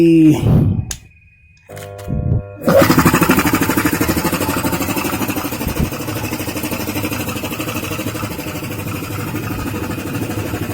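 A stirring machine mixing a cyanidation solution is switched back on after a brief quiet gap. It gives a steady, loud mechanical drone with a rapid rhythmic rattle that continues unbroken.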